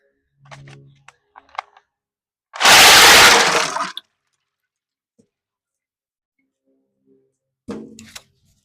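Ice dumped into a cold plunge tub in one loud rushing splash and clatter lasting about a second and a half, with a few small knocks and sounds of movement before and after in a quiet room.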